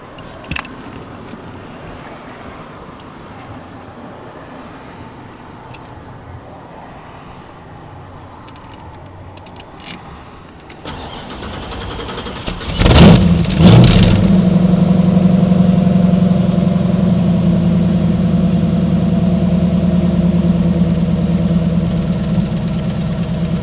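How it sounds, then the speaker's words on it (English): A 1928 Ford Model A restomod engine with a custom exhaust starts up partway through with a sharp roar, then settles into a loud, deep, rumbling idle with a throaty exhaust tone. "Custom exhaust, correct. So it's got a nice sound."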